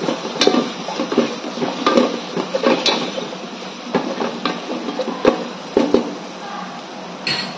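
Spices sizzle and are stirred in hot oil inside an electric cooker, a steady frying hiss broken by sharp clinks and scrapes of a utensil against the pot, close and continuous.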